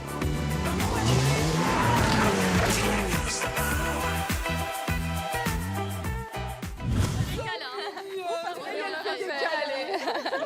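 An Alpine rally car drifts through corners on a road dirtied by earlier competitors at the 2022 Vosges rally, its engine revving loudly in rising and falling bursts with tire noise. It cuts abruptly to people talking.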